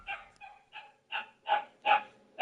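A pet dog barking indoors, a series of six short sharp barks at an uneven rhythm, close and fairly loud with brief pauses between.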